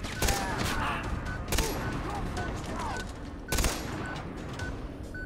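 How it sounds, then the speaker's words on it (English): Machine gun fire in the video game Far Cry 3, sharp repeated bursts standing out over a busy background of ongoing combat noise, fairly loud and close. "So now let's test out our other totally kick-ass machine gun."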